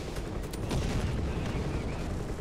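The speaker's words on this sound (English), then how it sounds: "He's firing his machine guns" Machine-gun fire from an Apache helicopter during a gun run in War Thunder, a dense continuous rattle of rapid shots with heavy low rumble, loud and close throughout.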